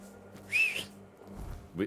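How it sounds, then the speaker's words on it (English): A short, thin whistle sounds in the Tainted Grail: The Fall of Avalon video game, a faint rising tone lasting under half a second, followed by quiet low rumbles and brief sounds. "That is a weak whistle."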